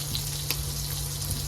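Sausage sizzling on a mini griddle, a steady close crackle and hiss with a constant low electrical hum beneath and a few small pops.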